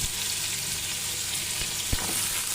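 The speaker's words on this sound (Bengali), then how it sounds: "এবার আমি ওর মধ্যে দিয়ে দেবো কেটে রাখা শিমগুলো" Beans, onion and green chili frying in a pan give a steady broadband sizzle, with a couple of brief knocks from stirring partway through.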